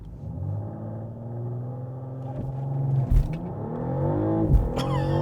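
A BMW XM SUV launches hard from a standstill and accelerates, its engine rising in a deep, climbing rumble with distinct gear shifts as the revs drop and build again, heard close from inside the cabin.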